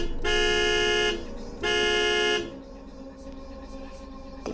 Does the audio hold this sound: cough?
no